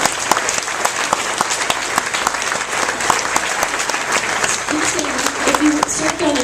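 A school audience at a sixth grade graduation ceremony at Canyon View claps steadily in dense, loud applause that fills the room, with a voice starting to speak as the clapping thins near the end.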